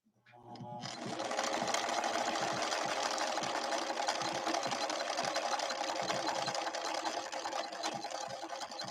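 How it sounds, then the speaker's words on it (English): A ruby red Husqvarna Viking 6460 sewing machine stitches protected full grain leather, starting up and then running in a steady, fast mechanical whir with a rapid needle rhythm, close and continuous for several seconds. "we're sewing on protected full grain leather right now"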